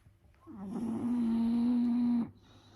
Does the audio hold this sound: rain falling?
no